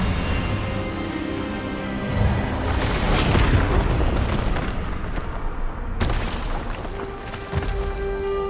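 Expelliarmus spell cast in the Hogwarts Legacy video game, a loud booming magical blast that swells and rumbles, followed by another sharp burst near the end.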